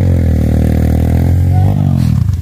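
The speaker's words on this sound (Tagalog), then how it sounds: "Umiiyak pa yung motor sa taas ah." A motorcycle engine strains uphill on a mountain trail in Benguet, droning loud and close with a steady high-revving whine that wavers and shifts near the end, some clatter underneath.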